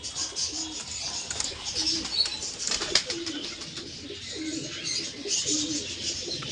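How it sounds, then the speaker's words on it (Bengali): Pigeons, including Kaldom and Laldom breeds, coo softly and repeatedly in a loft, with bursts of wing flapping and chirps throughout and no talking. "এটা নর পায়রা"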